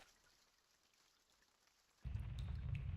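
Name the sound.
rain falling outside in video game Reverse 1999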